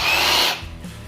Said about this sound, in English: I can take this jigsaw and go ahead and cut it out